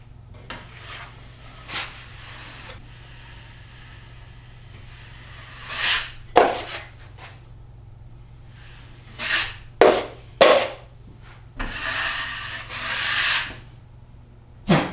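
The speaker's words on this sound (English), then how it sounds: "I'm going to skim coat the whole area. Basically putting mud on and taking it off." Drywall mud spread and scraped off in a skim coat over a patched hole around electrical receptacles, heard as scattered close rasping knife strokes, some short and some drawn out, between quiet pauses with no talking.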